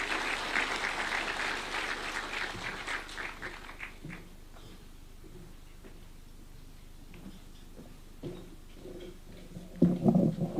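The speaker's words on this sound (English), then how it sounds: "One more round of applause." Audience applause after a speech by Speaker Kingi in Kenya, a broad wash of clapping that is strongest at first, thins out into scattered claps and picks up again briefly near the end.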